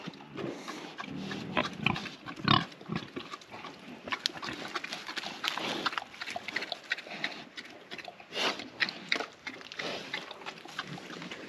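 A pot-bellied pig on a farm grunts and chews noisily while eating, with repeated close snorts and smacking bursts over several seconds, no talking.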